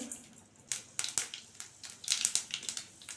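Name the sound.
mustard seeds spluttering in hot sesame oil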